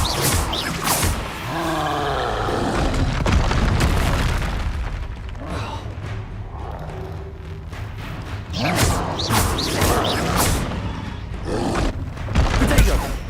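Confringo fire-blast spell cast in Hogwarts Legacy, a booming explosion with a thudding burst, followed by further blasts and game combat noise, with a voice calling out spell names.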